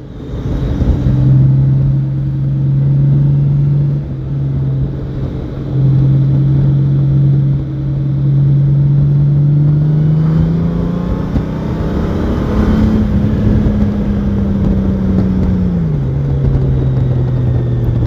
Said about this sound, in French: Alors après on va passer sur le mode sport, où là on a tout le couple qui vient soulever la moto à l'arrière.